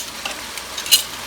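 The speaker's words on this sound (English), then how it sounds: "So here's the pieces of rotisserie chicken. I'm going to flip them over in the juice." Browned rotisserie chicken pieces sizzle softly in their pan juices as they are flipped, with a low steady fry and one brief louder spatter near the end.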